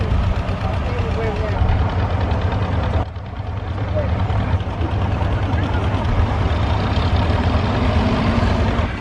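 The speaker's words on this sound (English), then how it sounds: "We have another person trying at the tractor pull." An antique tractor's engine runs at a tractor pull, a loud, steady low rumble that continues almost throughout with a brief dip partway, while a voice speaks over it.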